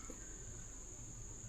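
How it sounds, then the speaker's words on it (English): Crickets and other night insects chirr steadily near a secluded cabin in Williamson, West Virginia at night, a thin continuous high trill that runs unbroken over a low background rumble, with no one talking. "Insects and frogs are making noise"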